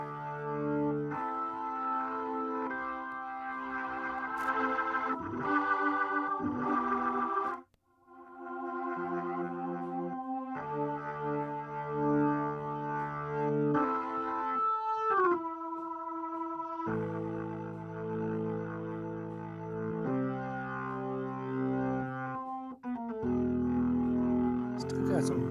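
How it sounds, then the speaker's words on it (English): Distortion effect on a B3 organ track in a studio mix, with gritty sustained chords and a harmonically rich tone that runs continuously, with one brief dropout near the middle. "It's got some nice distortion to it."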